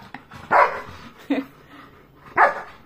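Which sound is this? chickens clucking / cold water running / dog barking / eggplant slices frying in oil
dog barking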